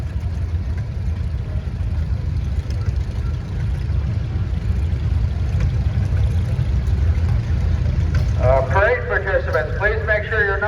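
A 1952 Allis Chalmers B tractor runs in a steam and gas engine society parade, its low engine chugging steadily under a nearby announcer's amplified voice. Music comes in near the end.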